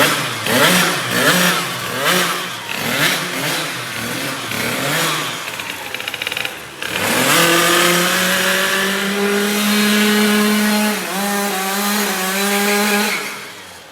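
A stunt scooter engine revs hard while a brand-new tyre is broken in, first in rapid choppy bursts, then settling into a loud sustained high whine with rising and falling pitch, close by.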